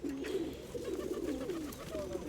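Pigeons coo steadily at an outdoor pigeon and bird fair in Severodonetsk, a continuous low burbling chorus from several birds close by, with faint background bustle.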